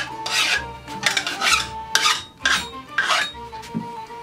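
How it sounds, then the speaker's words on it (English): A metal file rasps rhythmically along the edges of a weapon blade to round them off, about eight close, scraping strokes with a faint metallic ring and brief pauses between them. "We're trying to just round off the edges."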